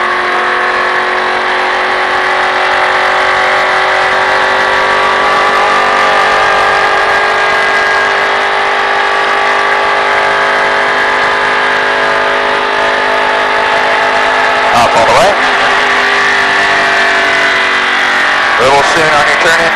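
A race car engine drones at a steady pitch on a track, rising slightly as it accelerates, with a couple of brief gear-change or rev bursts near the end; a voice talks over the engine noise.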